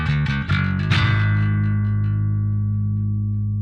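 An electric bass plays a fast pentatonic run from the Black Mesa song and lands on a big, powerful chord. The distorted chord rings out and sustains heavily for several seconds, with no talking.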